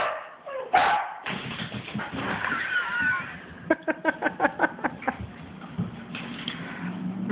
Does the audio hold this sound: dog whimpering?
yes